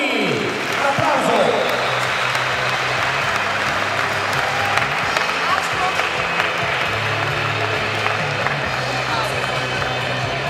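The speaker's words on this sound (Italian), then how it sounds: "un applauso" Sustained applause from a crowd at a fight night event, dense clapping with some cheering, steady and loud throughout with a busy room murmur underneath.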